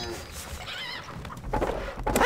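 A horse in the video game Stronghold Crusader HD lets out a wavering whinny among game voices, clattering effects and other battle noise.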